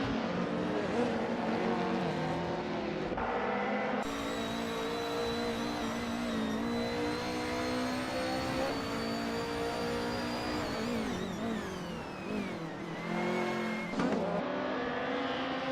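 Several race cars in a video game race roar past with engines revving and shifting pitch, a steady dense drone of motors with occasional faint tire squeal, loud and continuous throughout.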